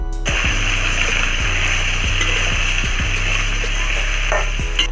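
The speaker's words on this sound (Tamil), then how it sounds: "உப்பு போட்டு அதை நல்லா வதக்கணும்" Ivy gourd sautés with salt in a pan, a loud continuous sizzle under repeated rhythmic scraping strokes of a spatula stirring, with a steady low hum beneath.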